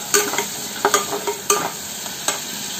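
Mustard paste with a splash of water sizzles steadily in a pan while a spatula scrapes and stirs in a few sharp strokes, with no voices.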